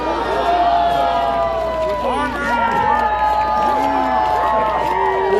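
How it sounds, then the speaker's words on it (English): A crowd at a live demo fight of armored combat cheers and boos continuously, a dense roar of many voices mixed with sustained shouts, with an announcer's voice heard over the noise. "They're cheering and they're booing."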